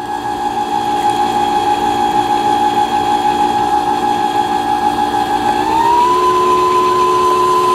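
A Brother Innovis 10 home sewing machine stitching steadily, its loud motor whirring with a constant tonal hum that rises slightly in pitch near the end as the speed increases.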